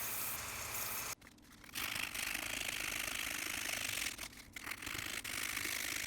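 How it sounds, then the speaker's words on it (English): A small belt sander grinds the head of a wrought iron cobbler's hammer, throwing sparks, with a loud, steady abrasive roar broken by two brief dips as the piece is lifted off the belt. "You'll see it again here on my smaller belt sander also."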